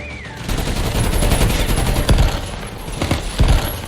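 Rapid gunfire from Call of Duty Mobile rattles in sustained bursts with sharp individual shots standing out, fairly loud and close, with faint game effects underneath.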